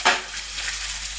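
Chopped shallots and onions frying in a pan: a steady, close sizzle that opens with a brief louder burst as they hit the hot oil, with no talking.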